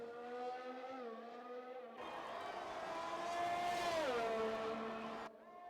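A race car in a racing game, on medium tyres, brakes hard into a corner on the Singapore street circuit, its engine note sweeping down through several downshifts before steadying, loud and close, with no talk.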